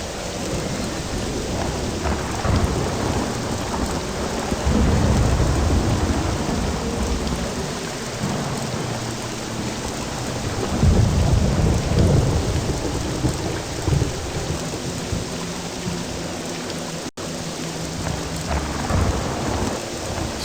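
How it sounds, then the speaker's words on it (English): Heavy rain pours steadily in a video game storm, with deep rumbling thunder rolling in swells around five and eleven seconds, loud and continuous with no talking. "Storm hasn't abated."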